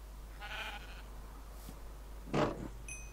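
Sheep in the Minecraft video game give short bleats near a shepherd's hut: a brief bleat early, then a louder, closer one near the end, over a steady low hum with no talking.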